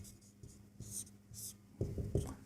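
A pen writes on paper during a Class 10 triangles geometry lesson, with short scratchy strokes in quick bursts that get louder and denser toward the end. No one speaks.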